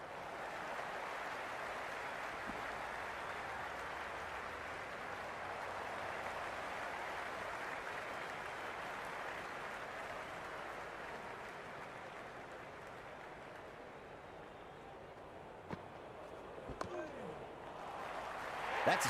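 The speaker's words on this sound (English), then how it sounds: "There's a buzz, a real buzz coming from the stands." A steady, dense crowd buzz fills a cricket stadium in the video game Cricket 26, holding at an even level throughout with a few brief knocks and a swell near the end.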